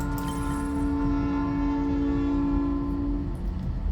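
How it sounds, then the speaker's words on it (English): A train rolls past in the idle game Cell to Singularity, its steady rumble and clatter running throughout beneath a long, sustained horn tone that cuts off near the end. "Now a train is going past."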